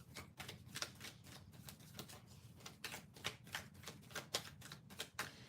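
Tarot cards shuffled by hand during a live reading, a steady run of crisp riffling and slapping bursts that repeats for several seconds, close and fairly loud with no talking.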